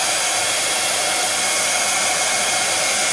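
Close, loud hair dryer drying wet paint on a craft piece, a dense unbroken rushing whoosh held steady throughout with no talk.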